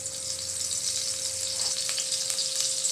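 Cooking oil sizzles in a pan for an eggplant and soy sauce side dish, a bright, dense, continuous hiss heard up close and fairly loud, with a faint steady hum underneath and no voices.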